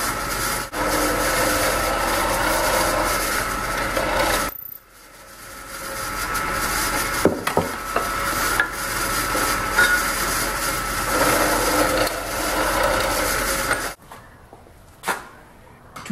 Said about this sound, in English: I'm drilling the hole in each end of the links.